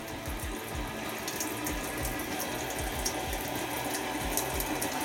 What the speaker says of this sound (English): run the cold water, or the hot, or a mix of both, it doesn't really matter, under any tap.